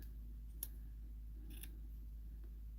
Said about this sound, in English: I'm gonna fold it in thirds about the size I want it, and just cut it